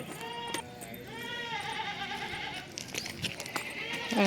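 Goats on a farm bleat faintly in a few drawn-out calls, over low background noise and occasional knocks, with some human voice around.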